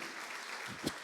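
An audience claps inside a church during a Thanksgiving Sunday service, a dense, even wash of applause that holds steady for about a second, with one brighter clap standing out near the end.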